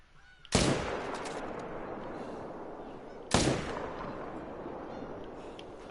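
Two loud rifle shots in a whitetail deer hunting video game, spaced about three seconds apart, each a sharp crack followed by a long, rolling echo that fades slowly.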